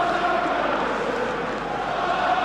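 Football crowd at an Everton versus Liverpool match, a broad, continuous roar of cheering spectators filling the stadium at moderate level, steady throughout.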